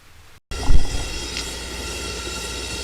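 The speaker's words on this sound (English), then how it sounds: "I know forge is going in the background, it's kind of loud" A blacksmith's forge roars loudly and continuously after a brief silence, a steady blower-like rushing drone with a louder burst at the start, filling the background with constant noise.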